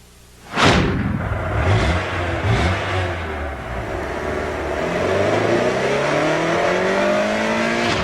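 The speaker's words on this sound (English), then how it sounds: "Introducing the 190 horsepower Prelude VTEC." A 190-horsepower Honda Prelude VTEC car accelerating hard, its engine note climbing through the gears in a loud, close, rising rev that dips briefly and then pulls on again, with no talk over it.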